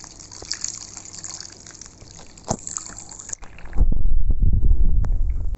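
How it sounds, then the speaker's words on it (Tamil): Water poured into a soup pot holding onion, tomato and cauliflower for Chettinad cauliflower soup, a steady splashing gush that starts after a few seconds of quieter kitchen sound and runs loud to the end. "சூப்புக்கு தேவையான தண்ணி சேர்த்தா"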